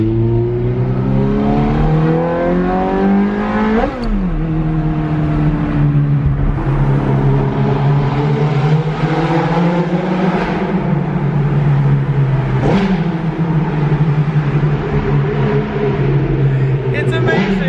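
A manual Ferrari engine pulls hard and revs through gears while driving on town streets at night, a loud close rising whine with sharp pitch drops at each shift, someone talking over it.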